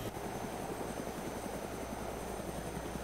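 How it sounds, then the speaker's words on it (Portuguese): A helicopter in the video game DayZ drones continuously at close range, with a dense, steady rotor and engine roar and fine rhythmic blade pulsing, heard alone. "Deixa eu ver o cara aqui, Castelo, na frente do helicóptero"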